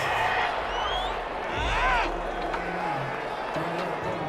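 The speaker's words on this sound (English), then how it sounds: "This home crowd, they're happy with that call." A home crowd roars in approval inside a football stadium during a Madden 21 Saints vs 49ers game, a broad sustained swell of cheering that peaks briefly mid-way beneath ongoing commentary voices.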